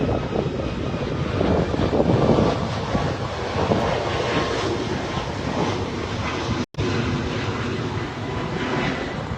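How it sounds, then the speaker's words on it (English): Airplane flying overhead: a loud, steady, broadband engine roar that swells and fades slowly over several seconds, continuous and close, with no talk. "We have another plane here."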